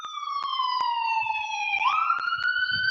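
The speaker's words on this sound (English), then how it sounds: "we got an ambulance coming up here" An ambulance siren passes close by on a road in Myrtle Beach during a protest, its loud wailing tone sweeping steadily and then shifting pitch as it goes past, with faint background chatter.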